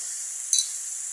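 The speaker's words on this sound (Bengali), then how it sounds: "হালকা মশলা দিয়ে ভাজি করবো।" Bottle gourd frying with light spices in a pan: a steady, bright sizzle throughout, with one brief clink of a stirring utensil midway.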